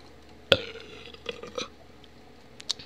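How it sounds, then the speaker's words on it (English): A single short burp from someone playing a Minecraft parkour map, sharp and close, followed by a few faint clicks and small sounds. "Burp."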